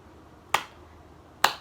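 Two sharp, close hand claps about a second apart in a quiet room, made to startle an infant during a Moro reflex check in neonatal intensive care physiotherapy.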